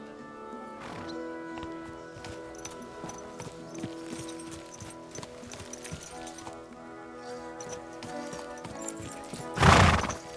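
Horse hooves clip-clop steadily close by in Kingdom Come Deliverance II, and near the end a horse gives a loud, sharp neigh.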